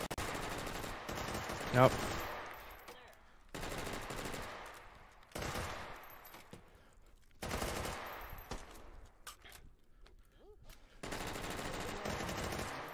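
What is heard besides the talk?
AUG rifle firing in a video game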